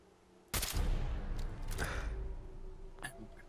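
Gunfire in a Fallout 4 fight, a sudden loud blast opening into a sustained roaring rumble with a second burst and a few sharp clanks near the end, no talking.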